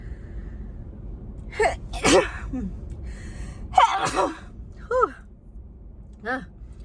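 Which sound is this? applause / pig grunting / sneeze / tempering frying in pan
sneeze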